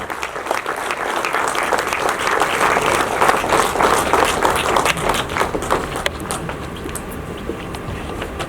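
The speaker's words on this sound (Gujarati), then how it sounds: "જોરદાર તાળીઓથી વધાવી લઈએ આ અવસરને સૌપ્રથમ" Audience applause fills a hall at a book talk as the second edition of a book is released, a dense, steady clapping that holds strong for several seconds before thinning slightly toward the end.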